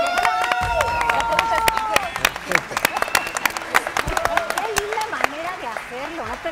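An audience applauds and cheers for Toluquita la Bella at a wedding rehearsal, a short burst of clapping mixed with voices and crowd noise.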